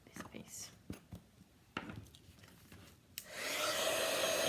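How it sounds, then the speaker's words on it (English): A craft heat tool switches on near the end and blows hot air steadily for embossing powder on a paper snowdrop piece, a loud broadband rush following a few soft taps and handling noises. "make sure your heat tool is warm before you do that"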